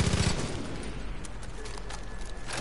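Rapid bursts of gunfire in the video game Far Cry 5, loud and continuous for a couple of seconds, with heavy low rumble and scattered sharp shots.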